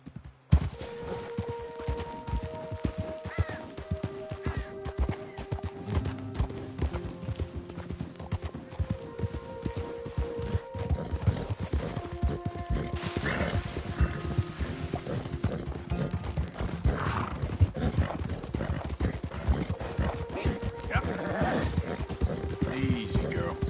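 Horse hooves clip-clop steadily in Red Dead Redemption 2, a continuous rhythmic trot running the whole time, with game music tones and a voice urging the horse on over the hoofbeats.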